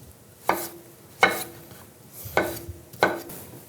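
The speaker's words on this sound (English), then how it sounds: "I'm just going to cut these into bite-sized chunks" A knife cuts grapefruit and avocado into bite-sized chunks on a board, giving four sharp, fairly close chops spaced about a second apart, each with a short crisp tail, and no talk.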